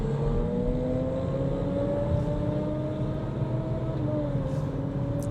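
A 2025 Audi SQ5 with a V6 engine drives along a back road, its steady engine drone rising gently in pitch over a constant road rumble, heard from inside the cabin with no talking.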